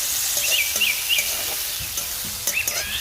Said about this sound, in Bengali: আলু ভাজা তেলটার মধ্যে দিয়ে দিচ্ছি একটু এলাচ, গোলমরিচ, লং আর একটু গোটা জিরা, দিয়ে দিচ্ছি পেঁয়াজ কুচি।